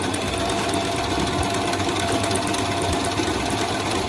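A sewing machine stitches patchwork top pieces together, with a steady, loud mechanical whir and rapid needle chatter running unbroken and close throughout.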